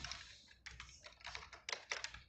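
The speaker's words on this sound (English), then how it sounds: "I'm just typing my text" Rapid, uneven clicking of keys on a computer keyboard while typing text in Excel, close by and steady, with short pauses between bursts.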